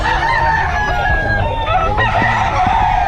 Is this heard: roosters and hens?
yes